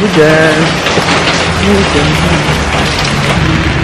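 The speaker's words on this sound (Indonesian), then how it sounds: "Hujan." Steady rain falls outdoors, a dense even hiss that stays loud and close for the whole stretch, with faint voices and a low hum of traffic underneath.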